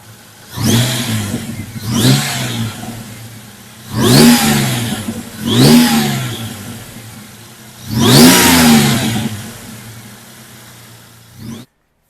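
A supercharged 2002 Ford Ranger 4x4 engine idles outdoors and is blipped in five loud revs in pairs, each rising sharply and falling back, before it cuts off.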